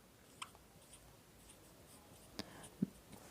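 Faint scratching of a pen or pencil writing by hand during a maths lesson, soft strokes broken by a few sharper taps in a quiet room.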